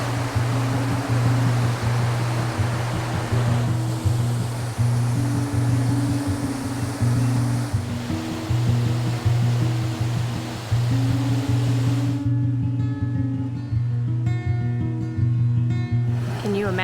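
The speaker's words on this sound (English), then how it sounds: "We are here at the main falls." Main waterfall at Bushkill Falls in the Pocono Mountains, Pennsylvania, roaring as a steady broadband rush throughout, with a persistent low rhythmic hum underneath and a voice speaking over it.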